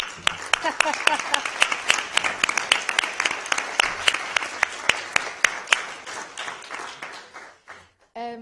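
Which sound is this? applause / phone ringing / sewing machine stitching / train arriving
applause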